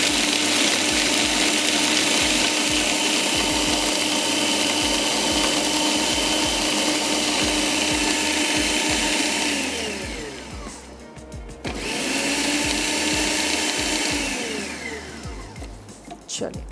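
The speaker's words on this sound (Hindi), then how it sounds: "चलिए इसको पीस लेते हैं।" An electric grinder whirs steadily as it grinds a bread slice with spices for chicken kofta, a loud continuous drone that dips briefly near the end and then resumes.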